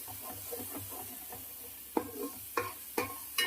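Fish frying in a pan for fish curry gives a soft steady sizzle under repeated scraping stirs, with a few sharper utensil knocks toward the end; no one speaks.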